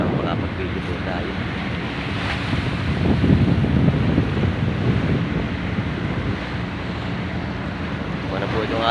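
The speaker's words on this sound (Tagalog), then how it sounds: "Ano po itong alon ito?" Sea waves roll in steadily at the coast near Subic under buffeting wind on the microphone, a continuous loud wash that swells in the middle, with a voice briefly heard over it.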